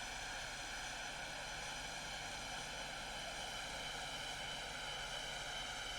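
A propeller airplane engine in the Roblox Novus Flight Simulator game, a steady droning hum with a constant buzzing whine, even and unbroken throughout, with no voices.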